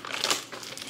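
Plastic packaging crinkles up close as a parcel from a large shopping haul is opened, a brief burst of rustling crackles with no talk.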